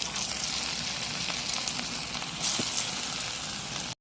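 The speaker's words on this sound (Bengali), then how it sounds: "তেলটা গরম হয়ে গেছে, এক এক করে বড়াগুলো ছেড়ে দিয়ে ভেজে নেব ছাকা তেলে।" Small shrimp fritters deep-frying in hot oil, a steady bubbling sizzle held close and even, with a brief louder crackle partway through and no talking.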